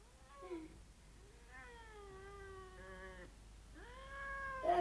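A cat meows repeatedly as a radio drama sound effect, several drawn-out, wavering meows with short gaps between them, the last rising louder and harsher, with no voices over them.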